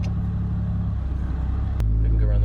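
Deep, loud, throaty car engine and exhaust rumbling close by, steady and heavy, rising louder near the end.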